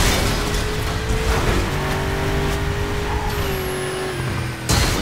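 Car engine droning steadily at high speed in Burnout Paradise, with a rising pitch as it races and a brief drop near the end, loud and continuous with no talk.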